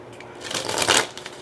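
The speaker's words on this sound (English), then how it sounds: "let's pull a couple Moonology cards here" A deck of Moonology oracle cards is shuffled by hand, a short close riffle of papery flicks swelling in the middle and then tapering off.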